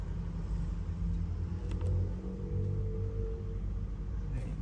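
Engine of an Infiniti G-series car, a G25, G35 or G37 with a stalling-after-idle fault and code P0462, running at a steady low idle hum, with a couple of faint clicks partway through.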